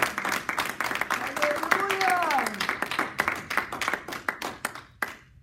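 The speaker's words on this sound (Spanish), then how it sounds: "¿Cuánto le dan un aplauso al Señor?" Church congregation claps together during a Spanish-language sermon, a dense burst of hand claps that thins into scattered individual claps before stopping, with a voice speaking over the start.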